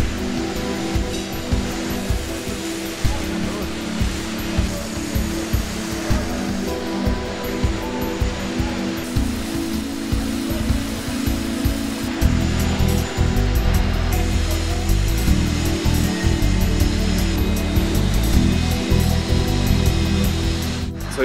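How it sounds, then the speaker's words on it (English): Continuous industrial din from the welding and cutting area of a Combilift forklift factory in Monaghan, a steady loud broadband roar with a rhythmic low pulsing that thickens into a heavier rumble partway through, with no talk. "This is our assembly lines and this is our welding and cutting areas."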